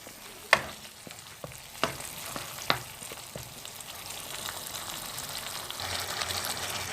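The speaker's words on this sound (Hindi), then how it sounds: "हम पहले पोटैटो डाल के अच्छी तरह से इनको भून लेंगे।" Potatoes fry in a pan for aloo shimla mirch, a steady close sizzle broken by a few sharp clinks and scrapes of a spoon stirring, the hiss growing a little louder toward the end.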